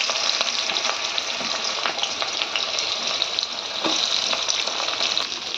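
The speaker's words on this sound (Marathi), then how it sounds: "मी सगळ्यात पहिल्यांदी कढई ठेवलेली लोखंडाची त्याच्यामध्ये तेल घातले आणि त्यावर आपण मसाले भाजून घेऊया" Spices frying in oil in an iron kadhai, a loud continuous sizzle up close with faint stirring scrapes now and then and no voices.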